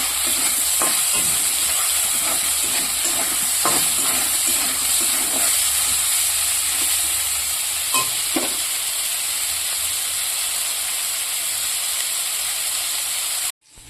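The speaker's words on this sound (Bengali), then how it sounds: "ফুলকপিটাকে লাল লাল করে ভেজে নিয়েছি" Cauliflower frying in oil hisses in a loud, continuous sizzle for a long stretch, with scattered crackles and light pops, then cuts off suddenly at the end.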